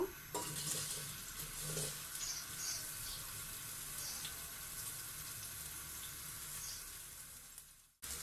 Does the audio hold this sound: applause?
no